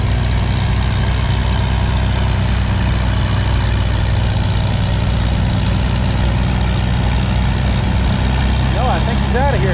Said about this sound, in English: Farmall Super MTA. Same tractor, new driver.